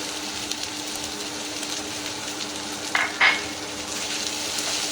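Green chillies sautéing with ginger garlic paste in a pan for a Madurai-style chicken dosa curry, a steady close sizzle with a couple of brief metallic scrapes from stirring.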